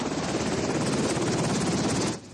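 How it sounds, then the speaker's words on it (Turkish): A military helicopter from a corps command flies near a remote hilltop base, its dense rotor chop and engine roar steady and loud for a couple of seconds before cutting off. "Van Kolordu Komutanlığı'ndan kalkan helikopter 45 dakika sonra ulaştı tepeye"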